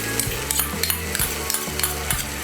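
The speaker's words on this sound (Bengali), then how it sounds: "টক দইটাকে ভালো করে মিশিয়ে নেব।" Whisked sour yogurt stirred into hot spiced oil for vegetarian Kashmiri aloo dum, a steady sizzle under rhythmic spoon scrapes against the pan, close and continuous with no talking.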